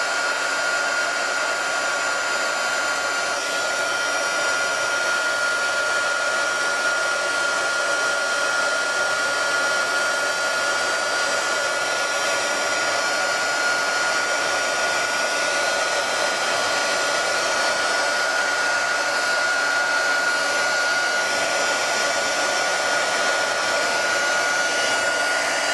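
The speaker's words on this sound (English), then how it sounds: "I'm gonna use this heaterizer to shrink this heatsink. It's gonna take a while for it to get heated." Heat gun blowing hot air to shrink heat-shrink tubing on the wires of a DC motor, a loud, constant whirring hiss that runs unchanged for the whole stretch, with no speech.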